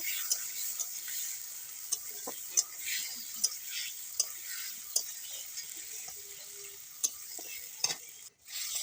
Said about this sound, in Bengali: দিয়ে ভালো করে নাড়াচাড়া করব। নাড়াচাড়া করে ভালো করে কষিয়ে নিতে হবে।